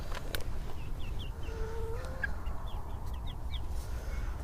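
Small flock of backyard chickens, including a Silver Lace Wyandotte and a Light Sussex, making soft scattered clucks and chirps at middle distance over steady outdoor background noise.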